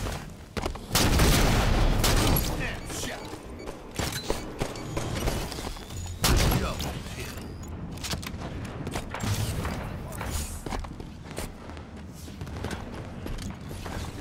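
Gunfire in a Halo Slayer match on the Eden map, with repeated sharp shots and short bursts spread over the stretch, some loud and close and others fainter, amid footsteps and occasional game voices.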